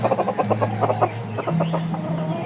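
A young yellow crossbreed rooster crows close and loud, a rapid string of clucking, stuttering notes that rises and breaks into a drawn-out call, repeated twice in quick succession with no voices.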